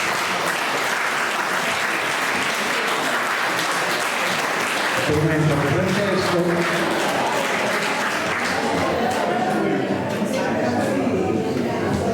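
A crowd breaks into sustained applause partway through, clapping steadily and loudly while someone speaks over it.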